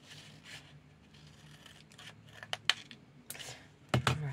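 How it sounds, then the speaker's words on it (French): Scissors snip paper for scrapbooking: a few sharp, quick cuts close to the microphone, with one louder double snip near the end, over a quiet background. "Pardon, je vous assomme un coup de ciseaux."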